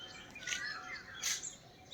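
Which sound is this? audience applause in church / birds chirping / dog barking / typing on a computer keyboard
birds chirping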